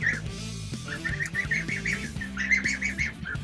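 Geese resting with their heads in the water give a run of repeated short honking chirps at close range, steady and fairly loud, with no talking over them.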